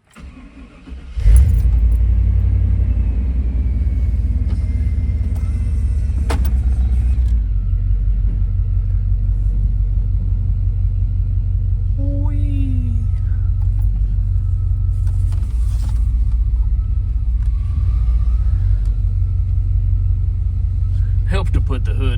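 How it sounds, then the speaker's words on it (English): A pickup engine starts with a jingle of keys, then idles with a deep, steady rumble close by as the OBS Chevy truck is backed off ramps, with occasional clunks and brief talking over it. "we'll get in here, back it off the ramps, pull over to some flat ground"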